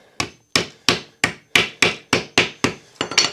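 Ten sharp hammer blows on a wooden fence door at a steady, quick rhythm, close and loud, each with a short ringing decay, the last few coming faster.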